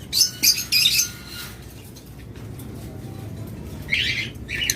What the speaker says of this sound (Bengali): তারপর আমাদের কাছে তো হিউজ পরিমাণ রয়েছে ককাটেল পাখি